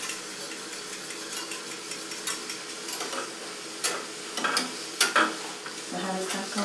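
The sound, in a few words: stirring vegan custard cooking in pot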